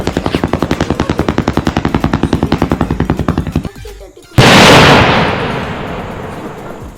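Firecrackers set off with a match go off in a long rapid string of loud cracks for nearly four seconds, then a short pause before one big roaring blast that fades into a hissing, crackling tail.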